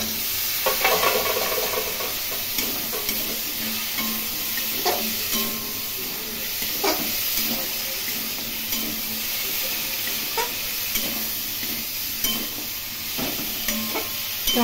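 Chopped potatoes and taro fry in a pan with a continuous hiss and sizzle, broken by repeated scraping stirs and utensil knocks throughout.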